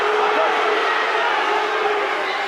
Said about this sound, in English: That's why the crowd are going berserk.